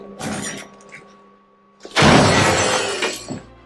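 A loot tick in the Apex Legends video game is smashed open with a melee attack, giving a loud glassy shattering crash after quieter game clatter, with debris tinkling as it fades.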